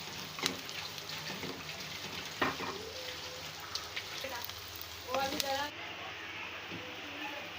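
Capsicum sautés on a medium flame for a malai kabab gravy, a faint, steady sizzle with occasional soft stirring scrapes, heard close under a quiet room hum with no talking.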